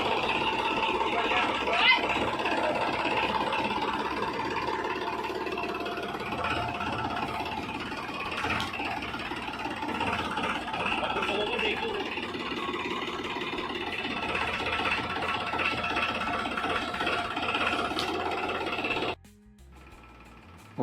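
A tractor engine runs steadily with a continuous mid-pitched drone and vibration on a village farmyard, close and fairly loud throughout, then cuts off abruptly near the end.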